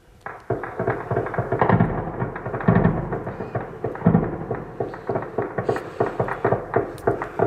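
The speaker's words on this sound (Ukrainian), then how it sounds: "Склад БК в окупованому Луганську вибухає." A rapid series of booming explosions at an ammunition depot in occupied Luhansk, dozens of heavy blasts crackling in quick irregular succession, loud and continuous with no voices.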